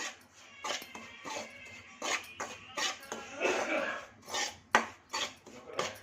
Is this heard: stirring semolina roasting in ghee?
yes